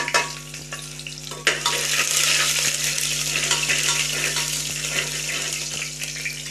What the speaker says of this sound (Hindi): देखिए हमारा तेल गर्म हो चुका है इसमें हम तड़का जो प्याज लहसुन का बनाया था वो हम डाल देते हैं